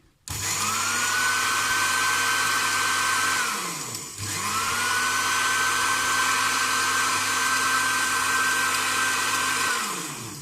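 An electric grinder whirs loudly while blending a homemade peri peri masala spice mix, running in two long steady bursts with a short dip between, its motor pitch rising as it spins up.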